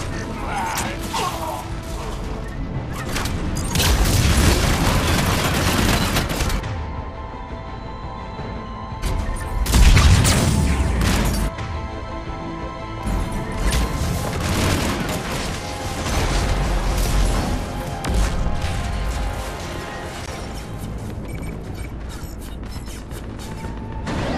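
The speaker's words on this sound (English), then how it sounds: "Cannons engaging." Cannons fire in the video game Mass Effect 3, a dense, loud, continuous barrage of booming blasts and mechanical clatter that swells and dips over about twenty-four seconds.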